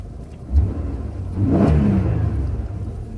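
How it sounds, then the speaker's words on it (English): A car engine idling and then revving higher as the air conditioning kicks in on a used vehicle, a steady low hum swelling into a stronger mid-range drone midway through, close and continuous with no talk. "when the AC works, you see that the engine revs higher"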